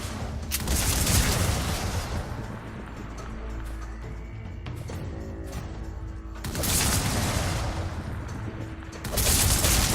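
Gunfire and grenade blasts from the Badass Heroes video game: dense bursts of rapid shots and booming explosions, loudest near the start and in two swells around the middle and end, with no talking.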